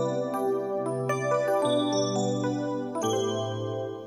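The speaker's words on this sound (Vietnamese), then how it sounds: "Tiếp theo thầy sử dụng đó là tiếng air piano." A sustained synth keyboard plays a slow sequence of held chords and notes, steady and moderately loud, with no voices.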